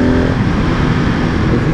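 A 2019 KTM 690 SMC R supermoto pulls hard in second gear, a loud, close, continuous engine roar with dense buzzing rumble and wind, held steady throughout the short burst.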